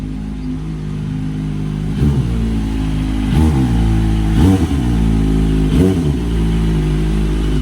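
Kawasaki ZX25R sport motorcycle engine held at a loud, steady high rev, with several sharp quickshifter cuts breaking the drone at regular intervals, close up.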